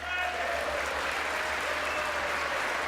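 An audience in the chamber at the 2019 State of the Union applauds, a sustained dense roar of clapping that stays loud and even throughout.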